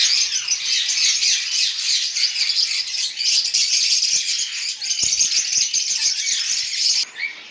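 Ringneck parakeets squawk and screech continuously, a loud, dense chorus of harsh calls close by, with a few clicks and rattles mixed in and no talk.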